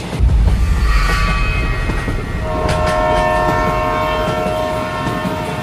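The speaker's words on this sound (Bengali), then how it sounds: "শুধু রেল লাইনের ওপর দিয়ে ছুটে চলা ট্রেনের শব্দ।" The Jnaneswari Express, bound from Howrah to Mumbai, rumbles steadily along the tracks, with a continuous low roar and faint metallic squeals, loud and close throughout.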